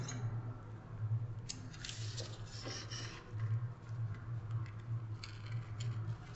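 Paper being cut with scissors for a collage: soft, scattered snips and rustles over a steady low hum, with no talking.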